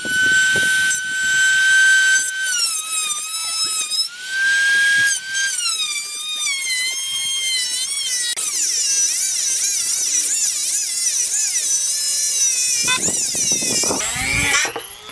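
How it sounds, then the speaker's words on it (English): A bolt for a DSM motor mount being cut off and ground smooth with a power tool, a loud, continuous high-pitched whine that wavers in pitch as the tool bites, close and sustained. "we got that cut off and I grinded it down nice and smooth"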